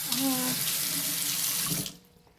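A kitchen tap runs steadily into a sink while a teaspoon is rinsed during banana bread baking, a close, full splashing rush lasting about two seconds before the flow cuts off sharply.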